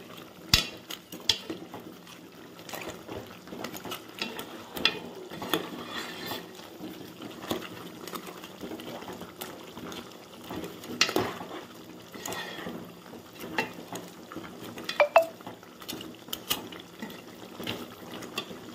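A spoon stirring crab gravy in a metal pot, with repeated soft scraping and clinks against the pot over a low, steady background; no one talks.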